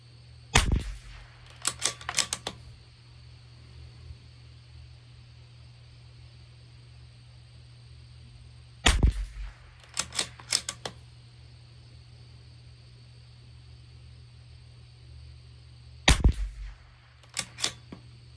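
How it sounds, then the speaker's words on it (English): Rifle shots from a Bergara B14r Carbon firing SK Standard Plus ammunition at a 50-yard range, three sharp loud reports spaced several seconds apart, each followed by a few quick mechanical clicks. "I'm going to shoot at the cross just below that target, so I have a finer aiming point for 5 more shots"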